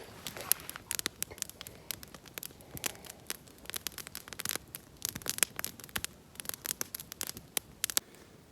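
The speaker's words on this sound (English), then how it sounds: "just listening to the sound of the fire" Irregular crackling and popping of a campfire, sharp little snaps scattered densely over a quiet background, close by.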